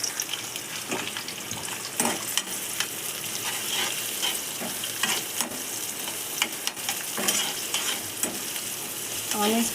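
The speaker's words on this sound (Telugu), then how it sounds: "ఆనియన్స్ బ్రౌన్ కలర్ వచ్చే విధంగా మనం బాగా ఫ్రై చేసుకోవాలి." Onions frying in hot oil in a kadai on the stove for a mushroom curry, a steady close sizzle broken by frequent scraping stirs, with no voices.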